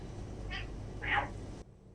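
A house cat calls out twice in a short indoor moment, a brief meow followed by a louder, fuller one, close by and alone before quiet returns.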